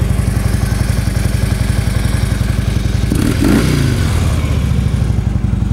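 A used Harley Davidson Ultra Limited FLHTK motorcycle engine runs loud and close in a steady, thumping idle, with a brief rise in revs partway through.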